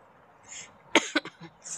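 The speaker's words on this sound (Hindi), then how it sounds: "बहुत ज़ोर से मेरे ज़ुकाम हुआ है ना खांसी आ रही है" A few short, sharp coughs from a woman with a heavy cold, close by, bursting out in quick succession against a quiet background.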